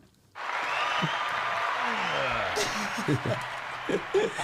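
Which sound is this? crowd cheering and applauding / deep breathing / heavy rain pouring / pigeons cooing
crowd cheering and applauding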